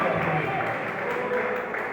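A church congregation claps together in a dense, steady wash of applause, with a voice speaking over the top of it.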